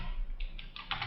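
A few quick, quiet keystrokes on a computer keyboard, soft clicks speeding up toward the end over a low background hum.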